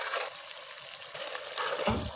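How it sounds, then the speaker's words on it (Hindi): Water poured into a cooking pot of browned potatoes and spiced meat for aloo gosht, a steady bright gushing splash that runs throughout, fairly close, with a brief low thump near the end and no talk. "2 गिलास पानी भी डालेंगे जिसके अंदर ये हमारे आलू गल जाए"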